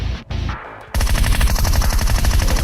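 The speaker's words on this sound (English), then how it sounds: "Gunshots." Gunfire in PUBG Mobile Metro mode: after a short muffled stretch, a loud, rapid automatic burst starts up and keeps hammering in a fast, even rhythm to the end.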